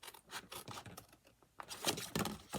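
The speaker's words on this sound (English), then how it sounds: "So I'm just going to cut the score line, cut this score line." A blade draws along a score line on a paper template for a frosted gingerbread box, giving quiet, close rasping and rubbing strokes in uneven bursts.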